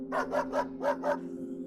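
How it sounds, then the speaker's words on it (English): Dog barking, five quick evenly spaced barks in a short burst, close and clear with no other sound. "Pat barked again."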